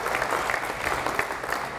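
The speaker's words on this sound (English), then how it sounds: "let's give a big round of applause to all of our emergency responders." Brief audience applause for emergency responders at a fire department and MDA Fill the Boot campaign event, a steady wash of clapping from a crowd at moderate distance.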